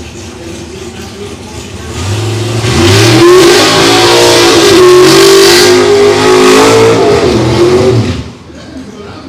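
Sportsman Camaro drag car launching and accelerating hard down a dragstrip, engine revving loud and rising for several seconds before cutting off, with a voice briefly over the roar.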